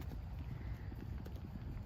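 A pony's hooves clip-clop steadily along a dirt trail outdoors, a quick, even rhythm of soft thuds heard fairly close over low background noise.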